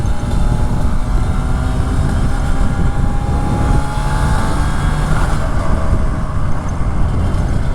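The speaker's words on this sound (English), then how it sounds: "Can't beat the sound of that 2-stroke" A 1980-1982 Yamaha RD350LC two-stroke motorcycle with Swarbrick exhausts runs steadily on a ride, its buzzing, raspy engine note loud and continuous with wind rush.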